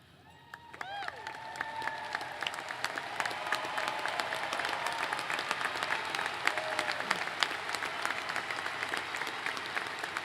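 A large commencement crowd breaks into applause for standing honor students, clapping swelling from a quiet start into a broad, sustained roar of many hands with faint cheers.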